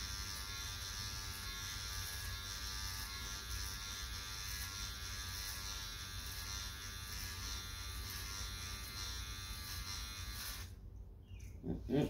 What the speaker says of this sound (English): Yeah, I'm sitting here cutting my hair. Yep. Shaving my head.